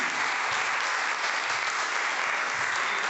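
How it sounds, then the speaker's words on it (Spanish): A church congregation claps for the Lord during a sermon, a thick, uniform wash of many hands applauding continuously and fairly loud, with no speech over it. "Den un aplauso al Señor"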